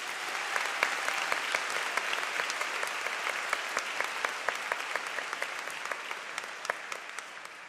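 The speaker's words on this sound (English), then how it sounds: "Please give them a round of applause." Audience applause at a university graduation ceremony for social sciences graduates, a steady sustained clapping from a large crowd with dense overlapping claps throughout, fairly distant and even in level.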